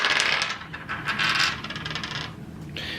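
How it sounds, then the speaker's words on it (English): Two dice rolled in a tabletop board game clatter and rattle across a hard surface with bright, jangling hits over about three seconds, heard up close with no talking. "So he'll roll 2 dice."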